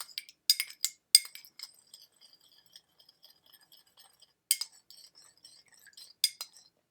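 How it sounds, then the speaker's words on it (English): A spoon stirs salt into water in a glass, making sharp, bright clinks against the glass in irregular clusters with quiet gaps between them, close and alone. "I'll put another 1/4 cup in. Stir it around."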